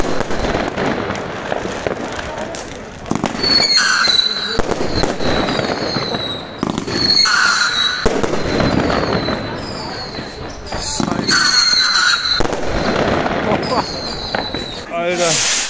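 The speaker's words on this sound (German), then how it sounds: "Zeig mal ein Feuerwerk." New Year's Eve fireworks and firecrackers go off nearby in repeated loud bangs and crackling bursts, with whistling rockets rising between them, while excited voices shout over the noise.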